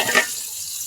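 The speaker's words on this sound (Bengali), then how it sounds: "এবং সামান্য লবণ মরিচের গুঁড়া দিয়ে এখানে ইলিশ মাছটাকে ভেজে নিচ্ছি।" Hilsa fish seasoned with salt and chili powder frying in hot oil, a brief soft sizzle and hiss that swells near the start and then settles into a steady, quiet crackle.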